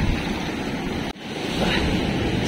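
Sea waves break on a rocky shore at night, a continuous roaring wash of surf mixed with wind. It holds steady apart from one brief dip, with no voices.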